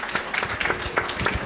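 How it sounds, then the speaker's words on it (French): Audience applause at a French university event on studying and apprenticeship in Grand Paris Sud, a steady burst of clapping from a room of people lasting the whole moment, moderately loud with scattered sharper hand claps. "Est-ce qu'on peut l'applaudir pour l'encourager"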